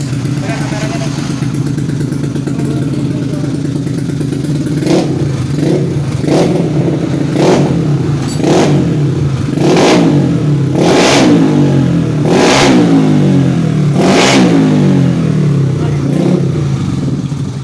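Racing motorcycle engine upgraded to 155cc revving up close and loud, a steady idle rumble broken by a series of sharp, rising throttle blips that grow more frequent.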